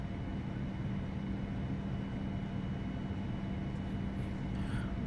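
Simulated Boeing 787 airliner jet engines in Flight Simulator X hold takeoff thrust at Melbourne, producing a steady, loud, unbroken roar with a low hum and no talking.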